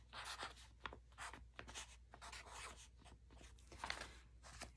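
A pen or pencil scratches out a fraction by hand on paper, a faint, close series of short scribbling strokes and rubs with small gaps, heard alone.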